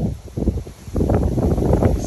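Wind gusting through dahlia flowers in an autumn garden, a soft rustling and buffeting that dips briefly and then swells again into a steady blustery rush against the microphone.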